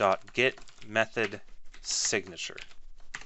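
Computer keyboard keys clatter in light bursts while a programmer works in a debugger's immediate window during Unity game development, with someone talking over most of the typing.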